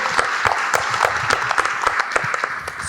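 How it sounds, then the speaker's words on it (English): Dense audience applause at a TV festival Q&A panel with creatives and cast, a steady wash of many hands clapping close and loud, with sharper individual claps standing out throughout. "let's give her a round of applause"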